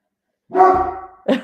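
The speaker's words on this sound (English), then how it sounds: "Can you hear my dog, more importantly?" A dog barks once in a drawn-out, wavering bark, close and fairly loud after a moment of silence, followed by two short yips or barks at the end.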